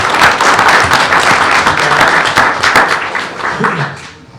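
Audience at a school board meeting breaking into loud, close applause for students and teachers, brisk clapping that sustains for several seconds before thinning out toward the end.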